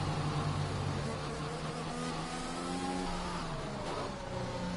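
A Ferrari Formula 1 car in the F1 2021 racing game approaches at the Brazil circuit, its high-pitched engine whining steadily with a shifting tone that rises and falls over a constant, moderately quiet bed of engine and track noise.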